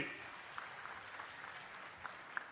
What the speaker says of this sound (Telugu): ఆయన గట్టిగా చప్పట్లు కొట్టి అభినందించండి